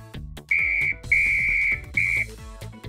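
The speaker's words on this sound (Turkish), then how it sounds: "Bir de düdük var" A shrill whistle sounds three times, a short blast, a longer one and another short one, over a rhythmic background beat.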